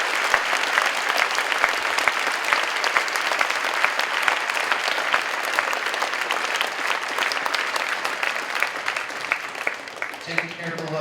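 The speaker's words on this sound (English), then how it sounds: "Can you join me in a round of applause for our heroes' hero?" A crowd at a school Veterans Day program applauds service organizations and uniformed guests. The clapping is loud, dense and steady, sustained for several seconds, and it thins out near the end.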